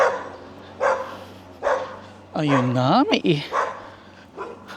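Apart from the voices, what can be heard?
dog barking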